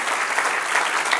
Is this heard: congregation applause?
yes